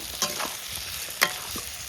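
Pabda fish hit a hot pan of tomato and spices and fry with a steady close sizzle, broken by two sharp stirring scrapes.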